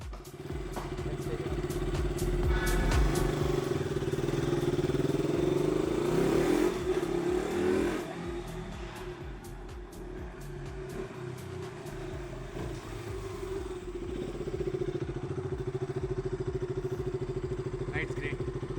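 Motorcycle engine running through a short ride after sitting for three years, a continuous close droning rumble that rises and falls with throttle, with some clatter and wind noise layered over it.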